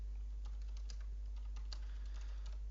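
Rapid keystrokes on a computer keyboard while a name is entered into a BMC Remedyforce request definition, a steady run of light clicks at close range with no talking.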